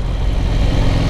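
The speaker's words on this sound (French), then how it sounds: "Le moteur, eh ben, il est plutôt souple pour un gros bicylindre parallèle." A KTM 890 SMT parallel-twin motorcycle engine idles with a steady low rumble, close and continuous, with no voices.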